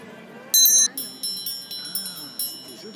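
A small bell is struck several times in quick, irregular succession, each hit ringing bright and close before fading, with faint voices in the background.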